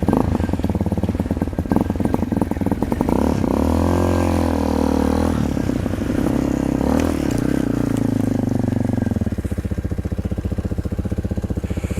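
A Honda Nighthawk motorcycle that barely runs labours under its own power up a truck loading ramp, its engine note rising and falling unsteadily before settling into a rougher, lower idle near the end.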